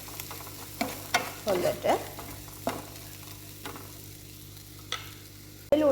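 Ingredients with curry leaves are stirred in a pan, giving scattered scraping strokes and a low background sizzle, close and moderate, while a voice speaks briefly.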